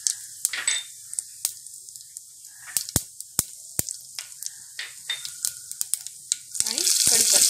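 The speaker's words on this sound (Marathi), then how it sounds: "तेल इथे चांगलं गरम झाले. मी आता ह्याच्यामध्ये मोहरी घालून घेते, जिरं," Mustard seeds, cumin and asafoetida hit hot oil in a pan, setting off rapid sharp pops and crackles that are scattered across the stretch, then swell into a loud continuous sizzle near the end.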